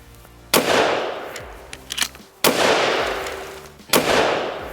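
Three loud shotgun shots of Federal Top Gun 7.5 birdshot fired at a target 20 feet away, spaced about two seconds apart, each a sharp crack with a long, slowly fading rumble, close up.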